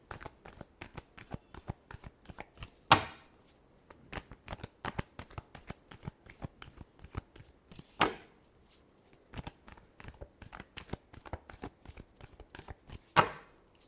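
Tarot cards shuffled by hand, a steady run of quick riffling flicks with a few louder slaps of the deck, close and alone without any talk.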